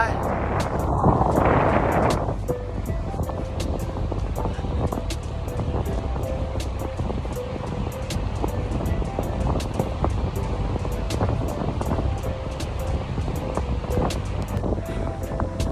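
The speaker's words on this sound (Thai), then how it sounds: "ลมก็แรงด้วย โอ้ลมแรงแดดร้อน" Strong wind buffets the microphone on Khao Takiab beach in Hua Hin under hot sun, a steady loud rumble running throughout with surf-like wash, briefly louder near the start.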